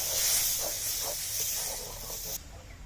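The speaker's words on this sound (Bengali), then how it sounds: "মধ্যে একটু জল দিয়ে দেবো যাতে লেগে না যায়" Water poured into a hot pan while cooking dhokar dalna, a Bengali lentil-cake curry, gives a loud, close, steady steam hiss that cuts off sharply after about two and a half seconds.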